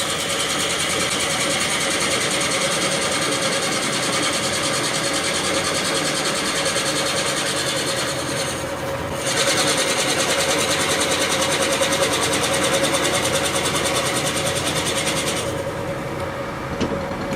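A woodturning lathe runs steadily with a continuous mechanical whir and hum, unchanging for the whole stretch apart from a brief dip partway through, close by and with no talking.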